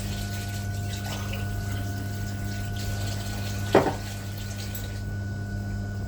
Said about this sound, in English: What we're gonna do, guys, is get some liquid into the coconut.